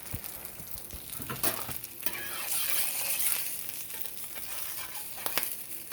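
Meat and white cheddar for a keto cheesesteak sizzle in a pan, a soft steady crackle broken by occasional scrapes and taps of a spatula, with no talking.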